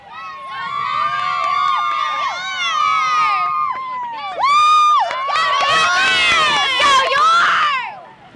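Cheerleaders at a homecoming high school football game shout and cheer loudly, a crowd of girls' voices rising and falling in excited, continuous bursts, swelling into a noisy peak near the end.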